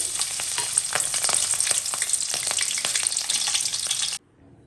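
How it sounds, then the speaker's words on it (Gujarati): Cut green chillies frying in hot oil for a puffed-rice chevda, a steady close sizzle with crackling pops throughout, stopping abruptly near the end. "મરચાં છે એ કટ કરેલા છે તો મરચાં તળી લઈએ"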